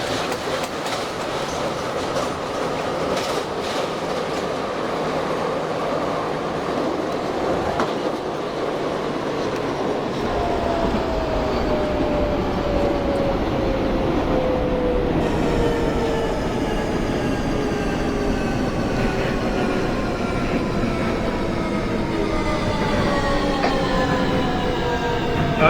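A subway train in the openBVE metro simulator game runs steadily. Wheels clatter and rumble continuously while a squeal rises and falls over the loud, constant ride noise.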